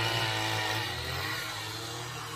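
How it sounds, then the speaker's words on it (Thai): A motorized post-hole auger drills holes for fence posts in a farm plot being prepared for snake gourd. Its engine drones steadily and loudly throughout, with no speech. "เครื่องเจาะ"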